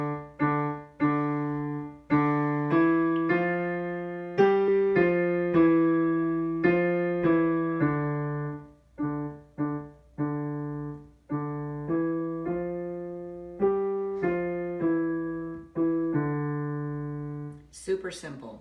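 A keyboard plays a simple Czech folk melody as a series of clear, evenly paced single notes in a steady rhythm, with no talking over it.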